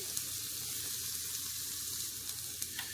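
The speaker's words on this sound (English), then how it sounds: "So we'll saute these a little bit." Shallots sautéing in a pan, a steady, even sizzling hiss throughout with a few faint ticks and pops.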